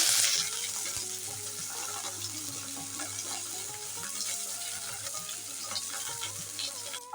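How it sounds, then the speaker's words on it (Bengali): Chopped onion fries in a pan with a low, steady sizzle. Light stirring taps and a faint background hum run beneath it throughout. "পেঁয়াজটাকে একটু ভেজে নেব"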